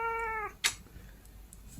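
A cat meows once, a clear harmonic call up close that bends downward, followed by a brief rustle and faint room noise.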